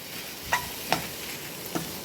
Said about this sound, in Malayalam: ആ എണ്ണയ്ക്കകത്ത് തന്നെ ഇതൊന്ന് വഴറ്റിയെടുക്കുക